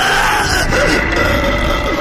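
Sharp, strained scream from a voice performer in a Spanish-language audio drama of Poe's Masque of the Red Death, loud and close, sustained for about two seconds with a groaning, yelling edge.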